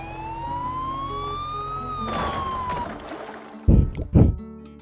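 A wailing ambulance siren in the video game Poly Bridge 2 rises and falls in pitch over a low engine rumble, then fades out, followed by two loud thuds near the end.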